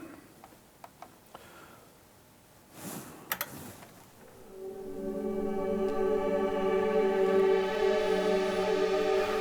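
A few soft ticks and clicks, then a sustained synthesizer pad fades in and holds as a rich, layered, droning chord.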